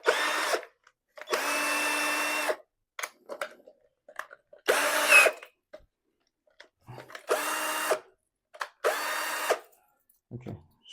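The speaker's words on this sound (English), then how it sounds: "a drill machine to get this one into the wall" Power drill boring into a wall with a size 8 bit while mounting a solar hybrid inverter, heard in five loud bursts of one to two seconds each, separated by quiet pauses with small knocks and handling noises.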